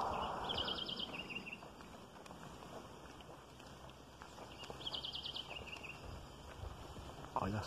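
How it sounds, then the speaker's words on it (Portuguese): Birds chirp in two short trilling bursts in the distance over a steady outdoor background of wind and faint movement. "O som dos passarinhos."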